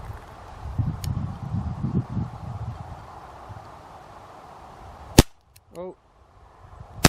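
Two sharp gunshots fired at a 3D printed target about 20 yards away outdoors, one loud crack followed a few seconds later by another, with wind rumble and a brief voice in between.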